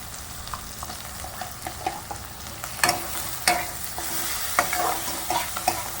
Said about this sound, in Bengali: এগুলো একটু ভালো করে পেঁয়াজটার সঙ্গে মিশিয়ে নিচ্ছি।